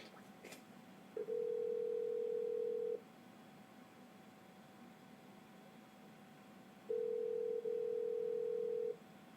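A telephone rings back on an outgoing call, two long steady tones a few seconds apart, each lasting close to two seconds, with quiet line hiss between them and no talking.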